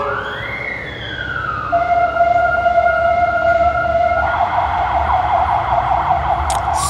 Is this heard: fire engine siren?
yes